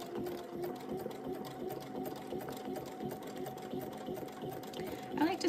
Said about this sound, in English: we're just gonna stitch ourselves around